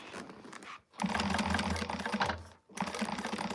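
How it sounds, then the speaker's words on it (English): Sewing machine running pink thread through gray vinyl in two sustained bursts of fast mechanical stitching, each halting abruptly before starting again, close and fairly loud with no voices. "Now I am sewing pink thread on my gray vinyl."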